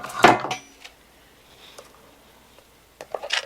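An 8x8 baking pan lined with parchment is set down with a sharp clatter at the start, followed by a few faint knocks and a light rattle near the end, close by with no talking.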